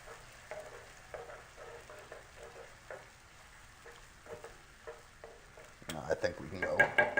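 Tomato sauce with capers and olives being stirred in a pan: a few light utensil clinks and soft scrapes, then a louder burst of sizzling and stirring near the end.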